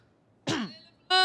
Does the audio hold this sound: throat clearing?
yes